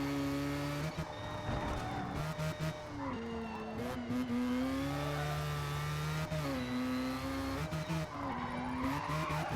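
A race car skids and squeals through corners in a racing video game, its loud, continuous engine whine rising and falling steadily throughout with no talking.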